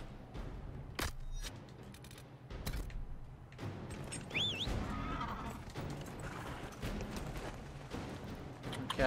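A horse is ridden in the Dragon Age Inquisition video game, with rhythmic hoofbeat clops, a short neigh partway through, and a few sharp thuds mixed in.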